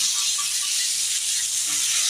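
Water poured onto vegetables frying in a pan for a fish curry sets off a steady, loud sizzling hiss that continues without a break.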